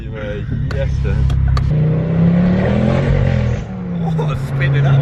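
A Ford Focus ST with a Malian exhaust revs up and down in a throaty, rising and falling drone, loud and close, while someone talks over it.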